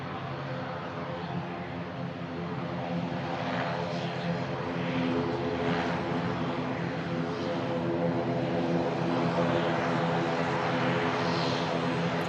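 An ATR 72 turboprop airliner arriving from Guernsey in the Channel Islands, its steady propeller and engine drone holding loud and continuous throughout with a gentle swell toward the end.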